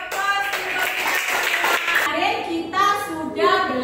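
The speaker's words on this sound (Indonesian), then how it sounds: "beri aplaus untuk kita" Children in a classroom clap together in brief bursts of applause mixed with their excited voices, close and lively, with child speech heard throughout.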